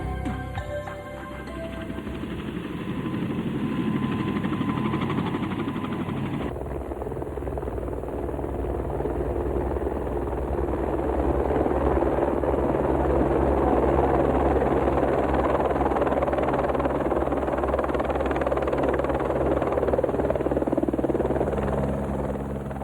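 Helicopter flying near Mendenhall Glacier outside Juneau, Alaska, its steady rotor thump and engine drone loud and continuous throughout, with no voices.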